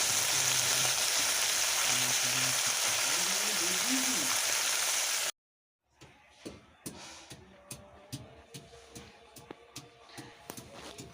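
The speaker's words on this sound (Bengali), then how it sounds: "এই মাছগুলোও ভালো করে আমি কড়া করে ভেজে নেব" Small river fish (mourola) frying crisp in a pan of oil: a loud, continuous sizzle with a voice over it, then a short silence, then quieter sparse crackles and pops.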